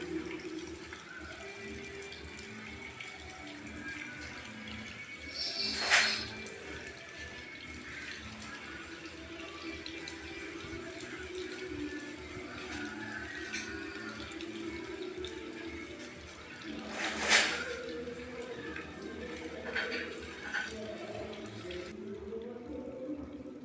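Rainwater runs and splashes in a steady wash outside a home, with a couple of louder gushing swells and a faint background of birds.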